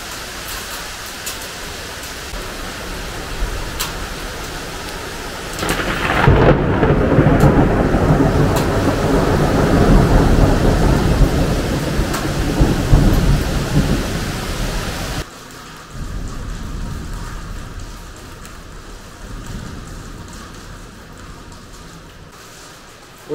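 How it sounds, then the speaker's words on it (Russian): Hail pounds down in a strong thunderstorm, heard from indoors as a loud, dense, steady roar that swells suddenly, holds for several seconds, then drops to a softer continuous patter. "Вот это град долбит."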